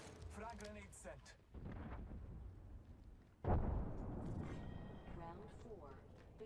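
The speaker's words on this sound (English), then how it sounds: "Frag grenade sent." A frag grenade blasts in a battle royale shooter, a sudden heavy boom with a rumbling tail that stands out over ongoing game noise and a voice talking before it.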